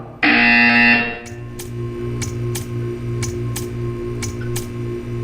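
A loud electronic buzzer in the video game Portal 2 blares for about a second, then stops, leaving a steady low hum with faint rhythmic ticks.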